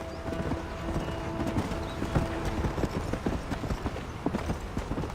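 Horse hooves clip-clop at a steady gallop through open country in the Western video game Red Dead Redemption, close and continuous, with an occasional faint whinny and a steady background bed of ambient game sound.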